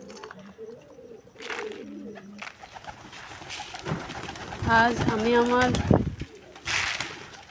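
Domestic pigeons coo in a loft, soft repeated calls running under someone speaking, with a burst of busier bird calling near the end.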